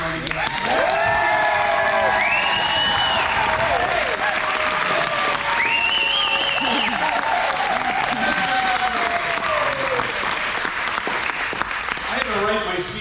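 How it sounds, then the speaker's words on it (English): Wedding rehearsal dinner guests cheer and applaud loudly, with whoops, shouts and sustained clapping from a lively crowd filling the room for the whole stretch. "Let's freaking give a big cheer for this wedding"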